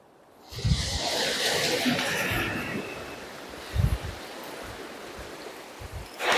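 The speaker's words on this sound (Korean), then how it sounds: "파도 봐 파도 소리 파도 봐" Waves wash onto a sandy beach in Yeosu, South Korea, in a broad hiss of surf, with low thumps as they break and a louder surge near the end.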